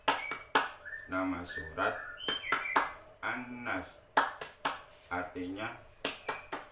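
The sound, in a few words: children's rhythmic hand clapping chant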